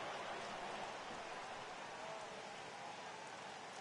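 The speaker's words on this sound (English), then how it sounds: "Yeah, the rain starting to intensify here. It's coming down a little heavier now." Steady rain pours down in a baseball video game, a uniform, moderately soft wash of falling drops with no breaks and no voices.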